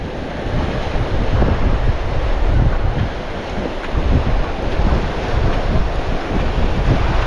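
Strong wind buffets the microphone at Lido Beach while waves wash in, making a loud, continuous roaring surf with gusty swells rising and falling.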